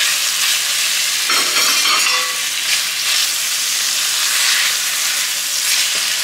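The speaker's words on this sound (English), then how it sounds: "after we saute our onion and garlic for a few minutes, I'm gonna go ahead and add my tomatoes" Onion, garlic and tomatoes sauté in a frying pan, giving a continuous loud hiss and crackle of sizzling oil with a few stirring scrapes, close and without talk.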